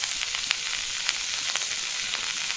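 Capsicum and vegetables frying in a pan with pasta masala just added, giving a steady close crackling sizzle with small pops throughout and no talk.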